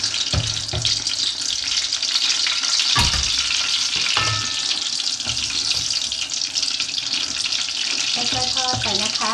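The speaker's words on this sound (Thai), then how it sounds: "น้ำมันของเราพอร้อนเราก็ใส่ปลาเส้นลงไปทอดนะคะ" Continuous crackling sizzle of Thai fish noodles deep frying in hot oil in a wok, with occasional stirring clinks and scrapes, fairly close and loud.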